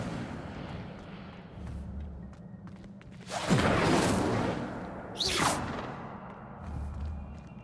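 The Incendio fire spell cast in Hogwarts Legacy, a whooshing burst of flame that swells and fades, followed by a second shorter casting whoosh, over quiet background ambience.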